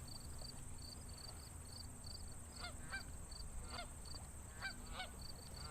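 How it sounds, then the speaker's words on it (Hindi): A chukar partridge gives several loud, harsh calls in quick bursts, heard at a moderate distance over a constant background of chirping crickets. "चकोर की आवाज थी।"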